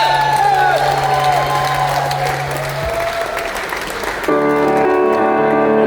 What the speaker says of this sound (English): don't think you're clapping enough, man